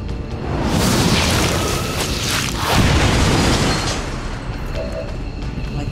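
An explosion goes off in the video game XCOM 2, a loud, broad booming roar that swells and rumbles for several seconds before slowly easing into a lingering noisy tail.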